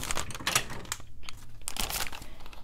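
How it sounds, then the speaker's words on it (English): A bag being picked up and handled while preparing scrapbook pages, with close crinkly rustles and crumpling in short irregular bursts. "So I'll take my bag"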